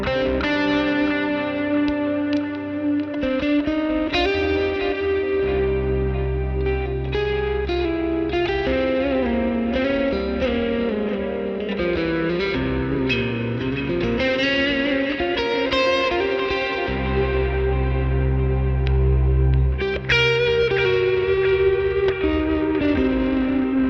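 An electric guitar with a washy, reverberant ambient effect plays sustained chords and a wandering melody, notes blooming and trailing into a smeared echo.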